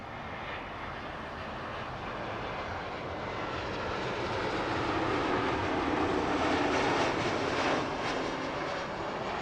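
A Delta Airlines A330-200 from Detroit lands at Heathrow, its jet engines building to a broad, distant roar that swells in the middle and holds steady.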